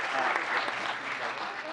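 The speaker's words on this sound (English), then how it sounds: "Let's give her another round of applause." Audience applause at a town council meeting in Gilbert, a steady dense wash of clapping that holds at an even level for the whole stretch with no talk over it.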